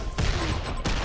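Two heavy gunshots in a video game firefight, loud close blasts about two-thirds of a second apart over a dense noisy background, with no voices.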